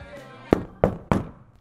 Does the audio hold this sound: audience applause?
no